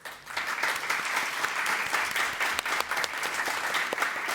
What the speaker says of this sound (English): Let's give a big round of applause and a warm welcome for our panelists today